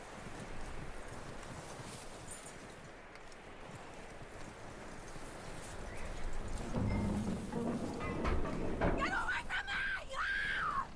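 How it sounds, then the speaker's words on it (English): Horse hooves clip-clop in Red Dead Redemption 2, a steady trot over wind and ambient noise, growing louder toward the end as a voice and a higher cry join in. "That looks like a decent horse. You should keep him. Get that horse hitched."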